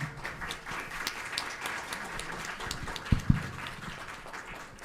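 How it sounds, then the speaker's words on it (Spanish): An audience at an academic day applauding a chemist being introduced, moderate steady clapping with a couple of sharper knocks near the end. "les pido un fuerte aplauso para la química Gisela"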